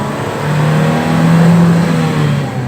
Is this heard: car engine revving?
yes